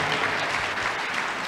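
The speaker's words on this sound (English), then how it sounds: "Clap unto God of choosing." A church congregation claps together in a short, loud burst of applause that fills the room, with no clear talk over it.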